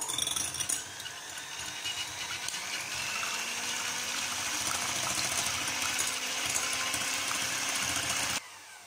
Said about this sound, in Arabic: ونبقاو نطربو البيض ديالنا مزيان بهاد الطريقة